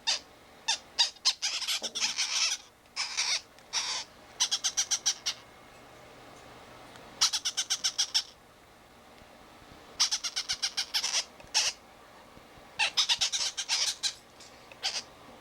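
Pet parrots let out repeated bursts of harsh squawks and rapid chattering calls, clustered in short volleys with brief pauses, fairly close in an indoor room.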